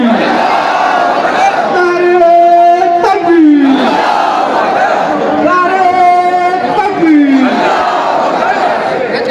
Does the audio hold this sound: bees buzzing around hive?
no